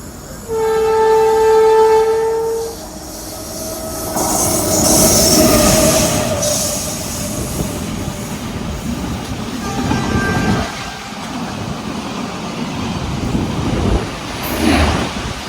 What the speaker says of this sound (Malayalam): ഒരു ഗുഡ്സ് ട്രെയിൻ ആയിരുന്നു കേട്ടോ.